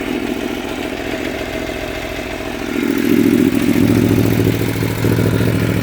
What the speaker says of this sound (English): Let's give it a cold start.